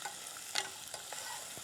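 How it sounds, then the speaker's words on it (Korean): Quail eggs are stir-fried with aromatic vegetables in a pan, a faint, soft sizzle broken by a few quick scraping and stirring clicks, close and with no voices. "메추리알을 넣고 볶아주세요"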